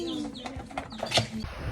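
Racing pigeons coo in soft, rolling calls mixed with a few short chirps, close by against a light background hiss.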